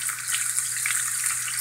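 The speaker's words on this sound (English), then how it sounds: "you don't want to crowd it into the pan. You want to leave it some room so that they brown nice and evenly" Beef stew meat sizzles steadily in a pan, browning without crowding, a dense bright frying hiss continuing close and unbroken with no voices.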